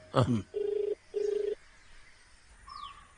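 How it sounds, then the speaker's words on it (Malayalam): Two ringback tones buzz through a phone speaker, evenly spaced and moderately loud, after a brief voice at the start. "റിങ് ചെയ്യുന്നുണ്ട്."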